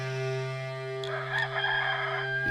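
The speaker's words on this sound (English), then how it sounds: "Immediately a rooster crowed" Rooster crowing, a single drawn-out call rising from a quiet, sustained tonal backdrop partway through, moderately loud and heard alone without speech.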